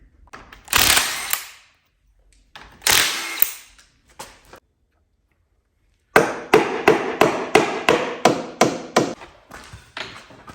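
A stuck cover on the hydraulic winch of a John Deere 450 dozer is worked loose with hard metallic blows: two heavy scraping strikes, a pause, then a fast run of about ten sharp, loud hammer-like impacts, close and without talk.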